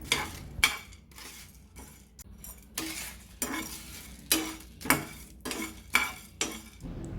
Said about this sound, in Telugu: రెండు నిమిషాల పాటు వేగనివ్వాలి